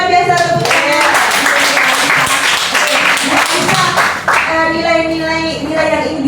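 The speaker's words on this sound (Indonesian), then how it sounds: "Luar biasa tepuk tangan." A classroom audience of teachers and students claps steadily for several seconds, a dense patter of hands that runs continuously, with voices sounding over and through the applause.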